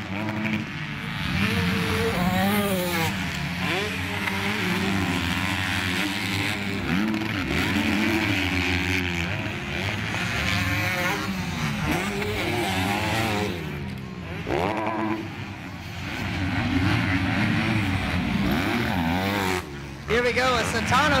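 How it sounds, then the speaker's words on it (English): Several two-stroke motocross bikes buzz and rev through a heat race at a dirt track, engines whining up and down continuously while a race commentator talks over them throughout. "And this is where that two-stroke might pay off as he's going to get inside of Uberty"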